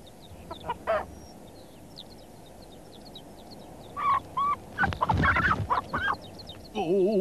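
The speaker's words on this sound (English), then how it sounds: "he turned round in time to see a cheeky hen stealing his keys" Short bursts of hen clucking and squawks scattered over a soft outdoor hum, with a louder flurry of calls near the end.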